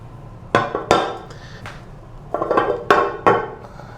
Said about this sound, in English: You lift up the cover on your toilet bowl.